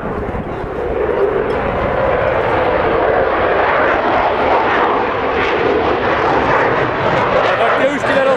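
Military aircraft flying over the NATO Days airshow at Mošnov, a loud continuous engine roar that builds and holds, with people talking beneath it.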